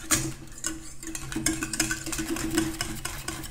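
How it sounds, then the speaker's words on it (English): A lotion emulsion being stirred into its water phase for a body firming lotion, a run of quick, light clinks and ticks of a utensil against a container, fairly close and steady with no talking. "And just give that a good stir and you'll see a nice white glossy emulsion is starting to form."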